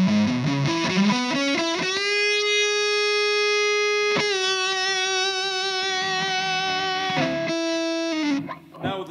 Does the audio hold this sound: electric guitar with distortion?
yes